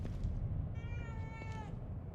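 A cat in The Evil Within 2 gives a single clear, drawn-out meow over a low rumbling game background.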